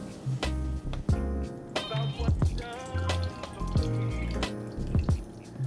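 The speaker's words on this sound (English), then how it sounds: "I'm just gonna pour this through my finger so I can catch the seeds." Freshly squeezed cucumber-kale or carrot-ginger juice is poured through fingers to catch seeds, giving soft irregular splashes and drips with a few small clicks, close and quiet, with no voices.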